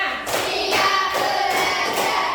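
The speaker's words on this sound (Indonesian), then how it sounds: "Tepuk 1, tepuk 2, tepuk 3, tepuk 4, tepuk 5," Classroom hand clapping in a counted rhythm, several sharp broadband claps in a row at roughly even spacing, loud and close with no talking over it.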